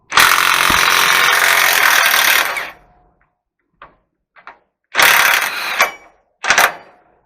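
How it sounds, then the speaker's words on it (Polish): Bolt on a MAN TGX truck's front suspension being loosened with a power tool, a loud sustained whirring burst, then short clanks and two more brief bursts of the tool. "A dziadek odkręca śrubę"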